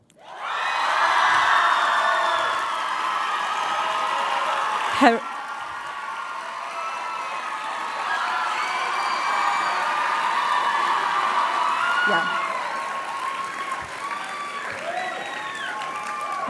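A large crowd at a school graduation ceremony claps and cheers loudly for a long stretch, with whoops and shouts rising over the sustained applause and voices calling out throughout.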